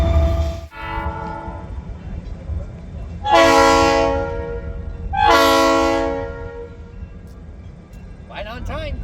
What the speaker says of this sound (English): So this is Santa Fe 92 going to run past me as it leaves the station.